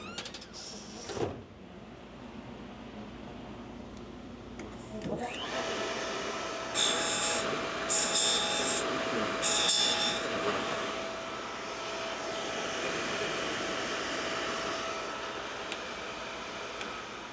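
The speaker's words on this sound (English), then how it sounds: "I'm gonna close the lid and turn on the grinder and just barely touch it" A grinding machine hums in a workshop while grinding a bed bar, starting with a couple of thumps before settling into a steady loud whine, with brief bursts of harsher grinding contact in the middle.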